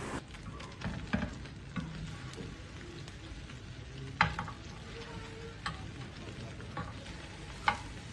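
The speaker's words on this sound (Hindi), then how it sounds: "अब मैं इसमें जो मैंने कबाब बनाए हैं अंडे में डिप करके अब मैं इसको फ्राई कर लूँगा" Potato and egg kebabs, dipped in beaten egg, fry in hot oil with a steady soft sizzle and occasional crackles and pops.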